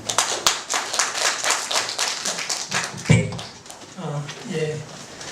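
A crowd claps for several seconds, a dense patter of hands that fades out, followed by a voice beginning to speak.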